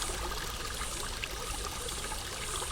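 Water feature in a woodland video game, a steady trickle of running water that fills the whole stretch at an even level, with no talk over it.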